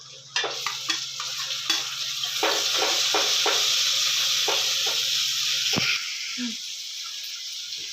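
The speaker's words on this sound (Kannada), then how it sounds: "ಈರುಳ್ಳಿ ಫ್ರೈ ಆದಮೇಲೆ ಟೊಮೊಟೊ ಸೇರಿಸ್ಕೊತಾ ಇದ್ದೀನಿ" Chopped tomatoes stirred into onions and curry leaves frying in a pan for idli sambar, giving a steady loud sizzle with a series of scraping spoon strokes, then a softer hiss.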